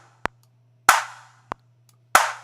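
Four sharp clap hits from a Logic X beat, alternating between short dry snaps and louder claps with a long reverb tail, spaced evenly over a low steady hum.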